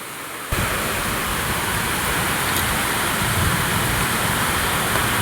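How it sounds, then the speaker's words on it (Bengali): A heavy rainstorm in strong wind roars as a dense, unbroken wall of noise that starts abruptly and stays loud and steady throughout, with no voices. "দেখো কি বেগে ঝড় বৃষ্টি হচ্ছে"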